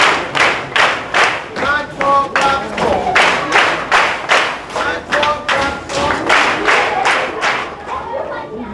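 Children clap in a steady rhythm in a Sierra Leone school setting, a group of sharp, near, loud claps repeating about twice per second with faint voices between them.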